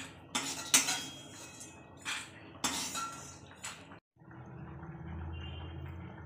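Metal utensils clink and scrape against a pan while roasted dal is taken out for laddu, with several sharp knocks spread over the clip followed by a low, quieter hum.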